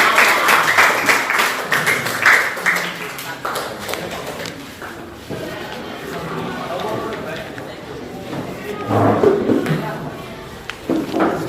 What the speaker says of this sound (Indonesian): Sekali lagi tepuk tangan untuk kelompok jazz.